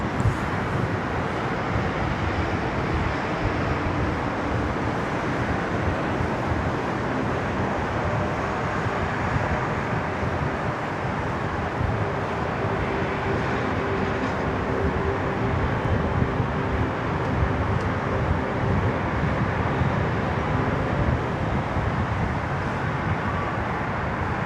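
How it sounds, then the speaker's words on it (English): GE90 turbofan engines on an airliner passing on takeoff, a broad steady roar that holds loud and constant for the whole stretch, with wind and rumble mixed in and no one talking. "We'll enjoy the beautiful sounds of the GE90 Symphony."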